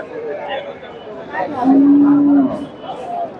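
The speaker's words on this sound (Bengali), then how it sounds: "বিশাল দেহের একটা গাভী দেখতেছি মাসাল্লাহ বেশ বড় একটা গাভী ফ্রিজিয়ান জাতের" A large Friesian cow at a busy cattle market in Bogura lets out one loud, long, steady moo, close by, with people chattering in the background.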